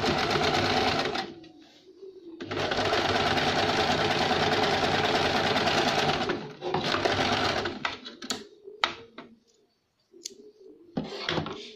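Sewing machine stitching a short slanted seam at the armhole of a circular umbrella summer frock, running in two long steady bursts, then several brief stop-start runs with clicks and pauses in between.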